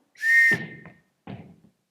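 A sharp whistle is blown to call children: one long shrill blast, then a short second blast after a brief gap, loud and close with silence around it.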